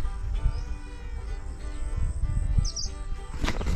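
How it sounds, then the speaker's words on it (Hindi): A flock of pigeons takes off together over farm fields at sowing time, with fluttering wing noise and faint chirps outdoors, and a louder burst of flapping near the end. "ये बहुत सारे कबूतर उड़ के जा रहे हैं"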